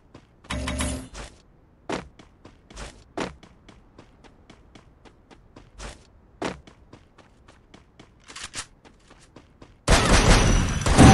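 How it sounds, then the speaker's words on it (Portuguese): Several sharp, loud gunshots from a gun in the video game Free Fire ring out one at a time with gaps between them, some in quick pairs, ending in a burst of dense, roaring noise. "até o barulho dessa arma, do tiro dela, dói até o ouvido"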